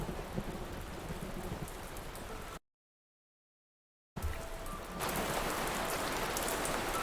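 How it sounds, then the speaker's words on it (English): Steady heavy rain with a possible low thunder rumble from a short film's storm effects, running continuously apart from a brief silent gap before growing louder and brighter. "Thunder, lightning, rain."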